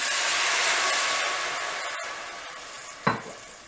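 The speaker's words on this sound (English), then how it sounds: "we're going to deglaze the pan with white wine" Sautéed vegetables in a pan for New England clam chowder, deglazed with white wine, hiss loudly and steadily, fading slightly, with a sharp sizzling burst near the end.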